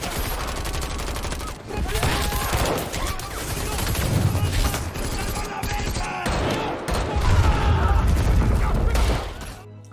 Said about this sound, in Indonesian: anggota dari Ramos menghujani peluru ke arah Guerrero dan yang lainnya